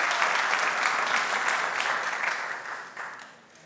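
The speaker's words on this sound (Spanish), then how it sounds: "¿Por qué no se dan un fuerte aplauso todos por estar el día de hoy aquí?" Applause from a church audience at a sermon, a dense steady wash of many hands clapping that fades slightly toward the end, with no talking over it.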